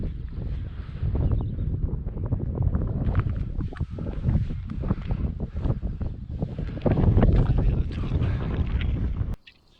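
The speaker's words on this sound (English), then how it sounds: "what we were not prepared for was how windy and cold it was" Strong gusts roar and buffet against the microphone in loud, uneven bursts on a cold mountain summit in the Sperrin Mountains, County Tyrone, then cut off abruptly.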